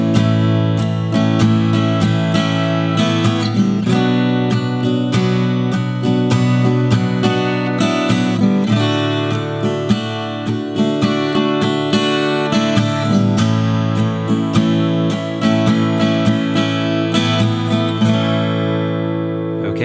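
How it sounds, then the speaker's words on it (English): Slow, steady rhythm guitar strumming of a song, bright and full, with close, loud down-and-up strokes repeating in an even pattern and no talking. "first, a slow demonstration of this main rhythm guitar part."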